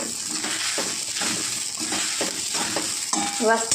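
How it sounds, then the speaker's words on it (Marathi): Sago pearls roasting in a pan rattle and scrape as they are stirred, a close, busy granular sizzle in repeated sweeps, with a brief clink of the spoon near the end. "कसा आपला शाबू मस्त भाजला तुम्ही बघू शकता"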